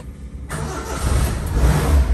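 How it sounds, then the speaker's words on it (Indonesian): An old pickup truck engine cranks and catches abruptly, then settles into a rising, rumbling idle close by, loud and throaty. "kita coba nyalain mesinnya ya"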